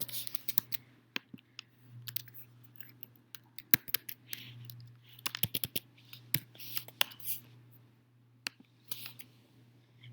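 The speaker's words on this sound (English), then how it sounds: "So type in the username and the password." Keys clack on a computer keyboard in irregular bursts while a username and password are entered, close and moderately quiet over a steady low hum.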